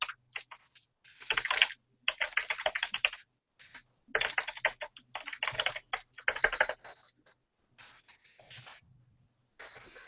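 Code is typed on a computer keyboard in bursts of rapid, close clicking, separated by short pauses, with a few slower keystrokes near the end.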